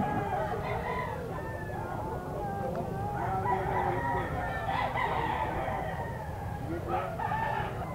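A young gamecock stag crows at a Philippine pet market, several hoarse crows and clucks repeating over steady crowd murmur and nearby fowl sounds.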